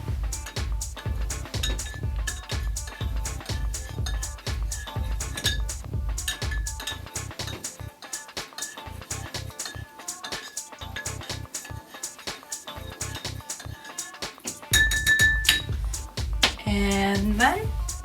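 Homemade alcohol hand sanitizer with a measured dose of lemon juice being stirred in a glass, giving steady rapid clinks and taps of a utensil against glass, close and fairly loud, with a brief louder scrape near the end.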